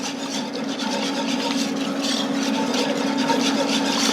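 A whisk scrapes steadily around a pan, working roux into milk and heavy cream for a creamy mac and cheese sauce, giving a continuous close rubbing swish.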